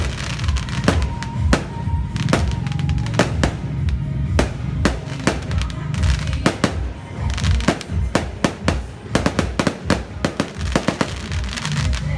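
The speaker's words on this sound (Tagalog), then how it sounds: "Nagpa-fireworks din sa harap ng bahay namin" Fireworks go off in front of a house facing a town plaza, a rapid irregular barrage of loud cracks and bangs close by, some coming in quick clusters.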